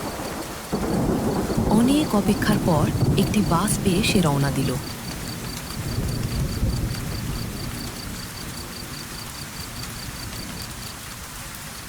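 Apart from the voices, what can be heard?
heavy rain pouring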